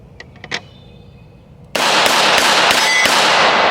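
A Taurus 605 revolver fires at an outdoor range, several loud, close booming shots in quick succession after a brief quieter lead-in with faint clinks.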